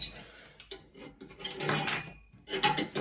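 A silencer is fitted onto a Chinese diesel heater, with bursts of close metallic clatter and rattling as the parts are handled, separated by short quiet gaps.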